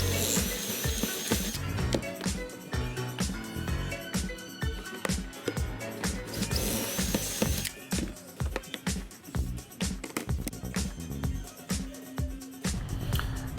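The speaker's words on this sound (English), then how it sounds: "Now I'm just drilling all my pocket holes, doing 4 on each side." A power drill bores pocket holes into wood, four per side, in repeated short whirring bursts with rhythmic pauses between holes, close and clear.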